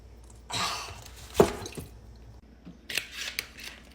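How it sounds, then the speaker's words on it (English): Scissors snip through a paper plate in a few sharp, close cuts: a rustling cut, one crisp snap, then a couple more quick snips after a short pause. "snip the paper plate"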